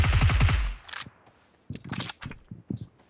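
Gunfire in a mobile battle royale game: a rapid burst of automatic shots opens, followed by scattered fainter pops and clicks, with quiet talk faintly underneath.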